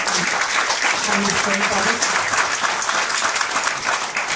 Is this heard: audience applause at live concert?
yes